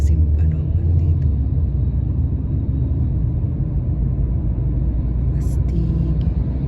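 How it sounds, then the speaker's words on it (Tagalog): A big garbage truck rolls past on a morning street in Doha, Qatar, a loud steady low engine rumble filling the whole stretch, with faint voices at the edges. "Ang laki ng truck. Garbage truck."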